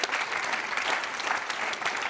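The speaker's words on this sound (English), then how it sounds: "Let's give them a big round of applause" Audience members at a discussion event clap for the panelists in a lively, slightly uneven round of applause, with distinct individual claps audible within the steady wash, close and moderately loud.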